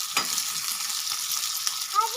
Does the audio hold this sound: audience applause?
no